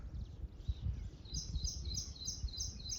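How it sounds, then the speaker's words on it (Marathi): Faint, high bird chirps, including sparrows, repeat in a steady series over a quiet, low rumbling background during crab fishing, with no speech. "पक्ष्यांचा खूप आवाज येत आहे बघा"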